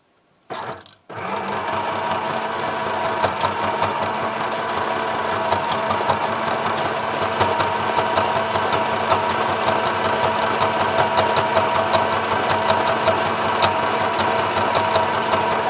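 A sewing machine stitching a tote bag runs in a steady, fast mechanical whir with a rapid rhythmic clatter, close and loud, continuous after a brief start.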